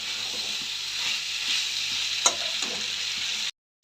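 Kohlrabi and beans sautéing for a hilsa fish curry, a continuous close frying hiss with a single sharp spatula clink, then sudden silence at the end.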